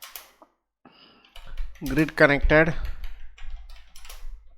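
Keys click on a computer keyboard as a prompt is typed, with a quick run of taps at the start before a person speaks over the quieter, continuing clatter.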